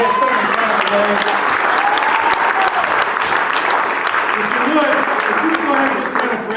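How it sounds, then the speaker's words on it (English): A church congregation applauds steadily and loudly, a dense, continuous wash of clapping with no break. "One more round of applause for today's family class today."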